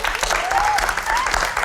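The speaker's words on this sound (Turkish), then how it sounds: "Miray ile İpek'in annesini buradan bir alkışlayalım." Studio audience applauding on a Turkish late-night talk show, a steady dense wash of clapping with a faint whistle or cheer gliding over it.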